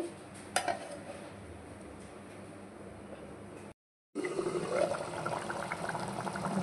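Chicken curry made with fresh coconut simmering in a covered pot on the stove, a steady low bubbling hiss with a brief lid or pot clink near the start and a short gap midway.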